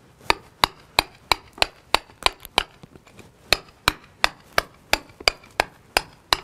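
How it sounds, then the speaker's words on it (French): A club hammer drives a chisel into the mortar joints of a stone wall, a steady series of sharp metallic strikes at a regular pace, close and clear, with a short pause midway. "c'est la technique manuelle, burin, massette"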